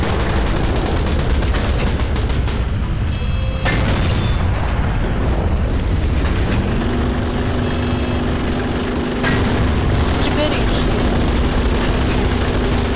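A tank fires in the Garry's Mod game, a run of loud booming blasts and explosions over a rumbling engine, with dense crashing bursts throughout and a steady droning tone in the later part.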